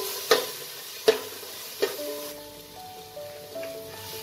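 Spice masala with Kashmiri red chili powder and salt is stir-fried in a pan for chicken tahari. Three sharp spoon scrapes come at a slow, even pace over a soft sizzle, followed by a low, steady frying hiss.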